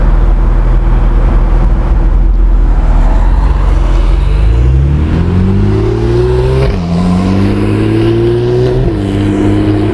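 A Porsche 911 accelerates past, its engine roaring loud and close with rising, shifting pitch through gear changes, heard alone without voices.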